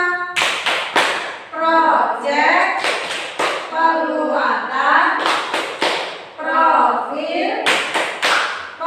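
A class of children chants in rhythm while clapping hands in a steady patterned beat, with repeated bursts of sharp claps between voiced phrases, loud and close throughout.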